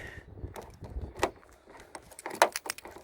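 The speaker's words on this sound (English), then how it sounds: "And lock it with the key." Key-locking a BMW Z3 car door: a rapid cluster of small metallic clicks, rattles and key-jangle taps, close by and moderately loud, with a sharper click near the middle and another toward the end.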